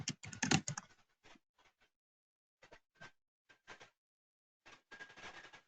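Typing on a computer keyboard entering a place search into ATLAS.ti software: a dense burst of quick keystrokes opens, followed by sparse single clicks and a final run of taps, close and clear with no talking.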